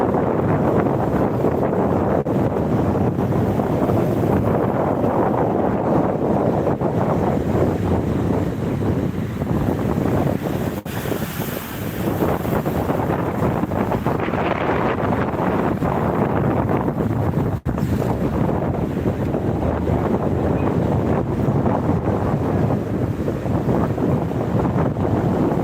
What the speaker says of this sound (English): it's cold and windy down here